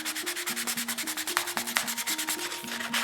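An abrasive pad scrubs across the plastic shell of a 30-year-old Super Nintendo controller in quick back-and-forth strokes, a steady close rasping rhythm with no voices.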